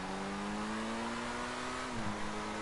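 Overflod Tyrant supercar driving in Grand Theft Auto 5, a steady engine drone holding pitch then dipping briefly as it shifts, continuous and moderately loud with no talking.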